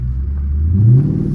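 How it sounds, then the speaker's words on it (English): A Dodge Charger 392 Scat Pack's V8 rumbles low and close, then revs up in a rising accelerating sweep, loud and alone. "hit the gas one good time so I can get out"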